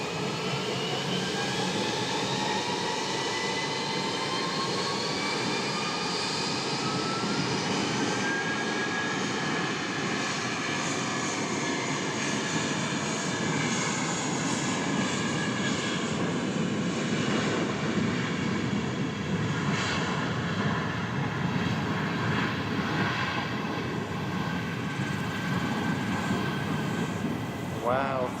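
A Jetstar jet airliner on flight JQ-258 to Auckland takes off from Wellington Airport on a calm day, its engines giving a broad, continuous roar that swells and rumbles steadily for the whole stretch, loud and reverberating.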